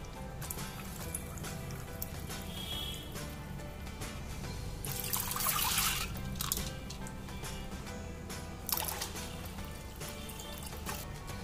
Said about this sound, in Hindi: इसमें और पानी ऐड कर देंगे